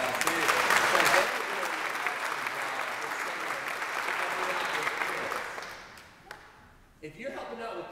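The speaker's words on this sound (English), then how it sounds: "Let's give them a round of applause too." Church service congregation applauding together, a loud sustained burst of clapping from a crowd that gradually fades out, followed by a brief quiet moment.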